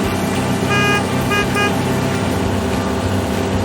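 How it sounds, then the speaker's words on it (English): Wheel loader construction vehicle with a steady engine rumble, joined by a few brief horn-like toots partway through, no talk. "Wheel loader."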